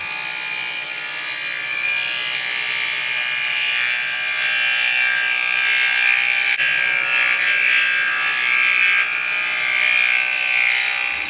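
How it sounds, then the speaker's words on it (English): A woodturning tool is sharpened on a grinder, producing a loud, continuous high-pitched whine and grinding buzz that holds steady for the whole stretch, close and alone with no voices. "I'm going to sharpen up the tool before I go any further."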